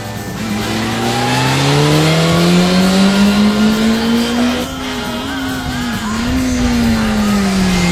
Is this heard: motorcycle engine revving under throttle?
yes